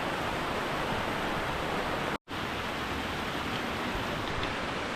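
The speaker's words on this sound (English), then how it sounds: "So it's a beautiful waterfall" Waterfall on the Ben Nevis descent in Scotland, a steady, loud, broadband rushing roar close by that fills the clip alone, with one very brief dropout midway.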